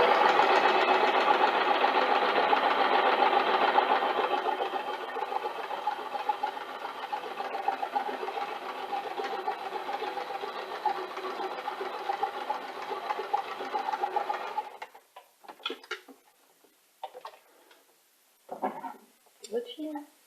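A sewing machine stitches in a steady, close, continuous whir for about fifteen seconds, then stops, leaving only scattered light handling noises.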